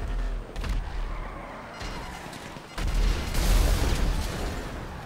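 Heavy gunfire aimed at helicopters in GTA 5 Online, dense bursts of shots and booming blasts layered together, loud and continuous with surges of intensity.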